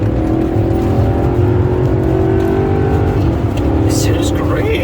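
A 2004 Range Rover V8 engine pulls hard through an overtake, heard from inside the cabin as a loud, steady drone with road and tyre roar, and some talk over it.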